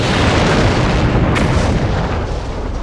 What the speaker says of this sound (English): that was a damn good explosion